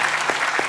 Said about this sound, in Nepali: कवि विजय र बुङसेङलाई पुनः तालीले धन्यवाद भनिहालौँ